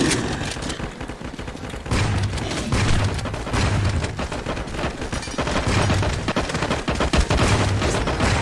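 Explosions and rapid gunfire from the survival video game LifeAfter, during a Hero Park run, form a dense, continuous barrage of loud bursts and booms that keeps going through most of the stretch.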